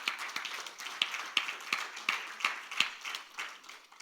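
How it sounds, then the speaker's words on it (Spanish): A church congregation claps in a loose, steady rhythm at a Spanish-language service, with evenly spaced sharper beats standing out over softer scattered clapping, fairly quiet and without speech. "Vamos, dale un aplauso al Señor."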